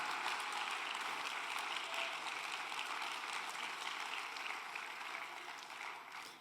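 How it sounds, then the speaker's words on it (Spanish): A church congregation applauds in a dense, sustained wash of clapping that holds steady throughout and tapers slightly at the very end. "Dele fuerte el aplauso a este Dios maravilloso"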